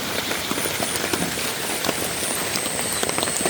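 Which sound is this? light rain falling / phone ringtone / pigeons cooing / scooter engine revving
light rain falling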